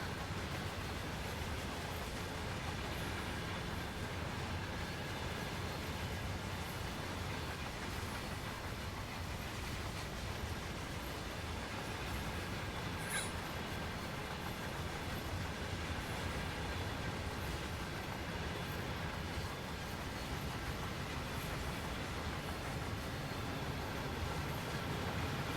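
In a video game, a Clinchfield F7 locomotive hauls a coal train in the early morning, a steady low rumble and rolling rail noise continuing evenly throughout, no voices.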